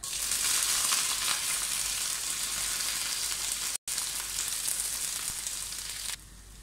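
Dried red chillies, curry leaves and crushed garlic fry in hot coconut oil with mustard seeds, giving a loud, dense, steady sizzle that cuts out briefly and then drops quieter near the end.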